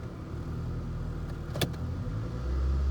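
A car idling with the parking brake set and foot on the brake as the automatic transmission is shifted into reverse, a steady low engine hum with a brief mechanical click midway and the idle deepening slightly near the end.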